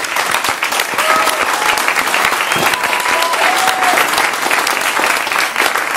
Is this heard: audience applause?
yes